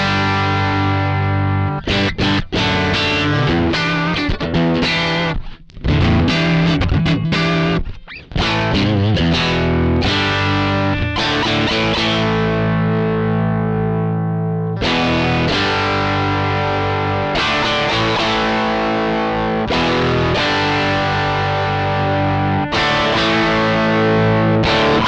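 Electric guitar played through a JOYO British Sound distortion pedal giving a Marshall-style amp tone, loud and continuous with chugging chords, short stops and sustained ringing notes, no talking.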